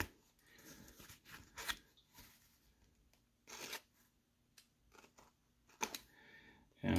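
A cardboard mystery box of vintage baseball cards is cut and pried open in close, irregular bursts of snipping, crinkling and scraping, ending in a louder rustle, with no talking.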